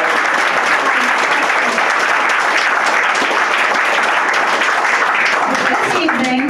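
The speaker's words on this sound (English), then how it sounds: "give a clap" An audience at a Burns Night gathering gives loud, dense applause, continuous clapping from many hands sustained evenly throughout.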